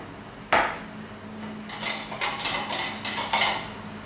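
A whisk beats flour into chicken soup in a pot, giving a sharp metallic knock followed by a run of quick rhythmic scraping clinks against the pot, close and moderately loud.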